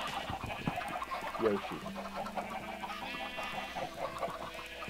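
Chickens cluck in a farm video game, soft and repeated beneath steady background sound, with a voice talking over them.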